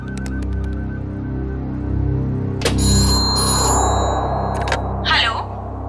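Outgoing phone call ringing in a CID crime drama: electronic ring tones sounding in short bursts over a low background score, then a brief faint voice near the end.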